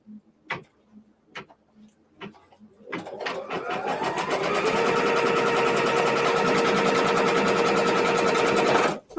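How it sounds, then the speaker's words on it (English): A domestic sewing machine stitches down a quilt block, starting after a few scattered clicks and handling noises, then ramping up into a steady, fast, even rattle held for several seconds before stopping abruptly. "Now we'll just go ahead and stitch that down."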